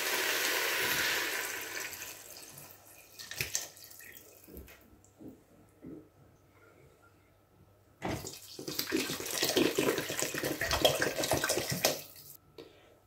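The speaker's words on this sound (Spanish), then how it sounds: "Después de 8 minutos vamos a añadir 1 litro de agua." Water pours in two splashy bursts, one litre added to a vegetable soup pot on the stove, with a quieter stretch of faint clatter and drips between the pours.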